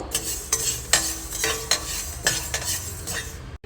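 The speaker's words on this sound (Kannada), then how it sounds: "ಈಗ ಮೆಂತ್ಯ ಕಾಳು ಇದನ್ನು ಅಷ್ಟೇ ಕೆಂಪು ಹುರ್ಕೋಬೇಕು" Fenugreek seeds being dry-roasted and stirred in a pan: a close, steady gritty rasp with repeated scraping strokes of a utensil against the metal and a faint sizzle underneath.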